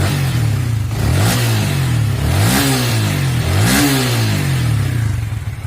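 A Yamaha Vixion motorcycle engine, freshly rebuilt with a new cylinder block, idles steadily up close, blipped into three short revs that rise and fall at roughly one-second intervals.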